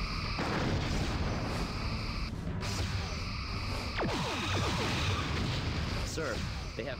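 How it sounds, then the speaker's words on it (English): Torpedo hit on a starship during a Star Trek space battle game, a dense, continuous rumble of impacts and crashes with sharp bursts near the middle, loud and close over steady engine and alarm noise. "We have a torpedo!"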